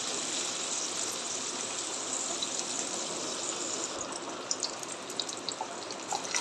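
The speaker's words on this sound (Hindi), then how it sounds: "इसमें हम पनीर थोड़ा थोड़ा डालकर फ्राई कर लेंगे" Paneer cubes frying in hot oil make a steady, dense sizzle throughout, with a few sharper crackles and pops toward the end and no talking.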